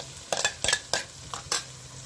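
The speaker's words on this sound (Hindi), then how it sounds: "इनके लिए हम अदरक लहसुन को फ्राई करेंगे ताकि जो लहसुन की एक अजीब सी स्मेल है वो ख़त्म हो जाए" Ginger garlic paste frying with softened onions in a pan, stirred in several quick scraping bursts of spoon on metal, with faint sizzling underneath and no talk.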